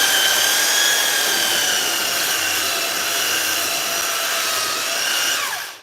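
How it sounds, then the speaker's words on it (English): Power sander working a wooden piece: a loud, steady high-pitched whine held close for several seconds, then winding down and falling in pitch as the tool stops. "that's why you see me sanding this"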